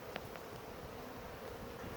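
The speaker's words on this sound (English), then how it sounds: "I am sitting in between two hives. You can see them buzzing in and out." Honey bees buzzing in and out between two hives outdoors, a faint continuous hum with brief louder passes of individual bees near the microphone.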